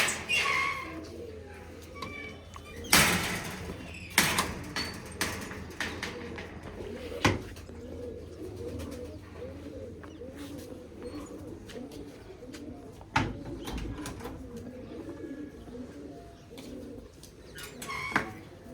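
Pigeons cooing in soft, repeated low burbles on a rooftop pigeon loft, with occasional loud knocks and clatters nearby.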